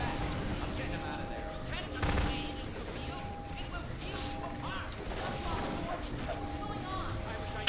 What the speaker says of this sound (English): I'm shooting Alex right now